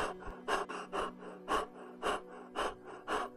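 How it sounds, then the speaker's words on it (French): Raspy, short breaths from a horror-story sound effect come in a regular rhythm, about eight sharp gasping inhales and exhales close up and fairly quiet, with nothing else heard. "J'ai entendu une respiration rauque et courte."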